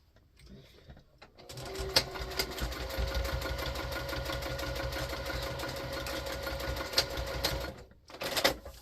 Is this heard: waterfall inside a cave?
no